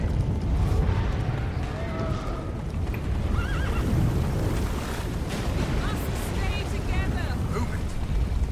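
A horse whinnies and its hooves clip-clop in the video game The Witcher 3, set against a steady wash of wind or water ambience and game sound, fairly loud throughout.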